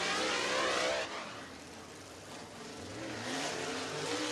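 Race car engine at Thunderhill Raceway, a steady broad roar lapping on track, loud and continuous with a slight dip then rising again as the car accelerates past.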